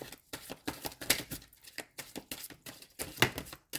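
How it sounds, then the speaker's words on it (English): A deck of tarot cards being shuffled by hand, a quick run of crisp riffling snaps and flutters in uneven bursts, close and fairly loud. "One more shuffle for Virgo."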